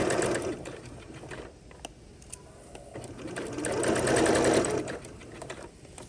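Sewing machine stitching the crotch seam of cotton PJ shorts, a steady close whirring needle run that swells and slows in spells, with faint ticks from handling the fabric.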